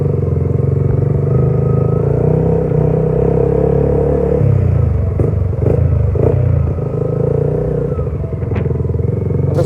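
A Yamaha Y15ZR motorcycle engine idles and runs steadily up close, a loud continuous rumble with a brief rise in revs midway and a few light mechanical clacks.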